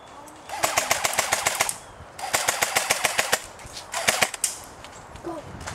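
Rapid bursts of airsoft gunfire during an outdoor birthday-party airsoft game, crackling in quick rhythmic volleys of about a dozen shots each, fairly close and sharp, with brief pauses between bursts.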